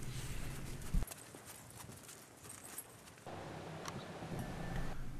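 Horse hooves clip-clop at a steady walking pace, moderately close, with the background tone shifting partway through; no talking.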